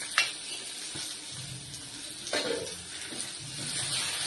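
Onion and garlic sizzling as they fry in a pan for a green chilli tamarind relish, a soft steady hiss with a few stirring clinks and scrapes, fairly faint and with no talking.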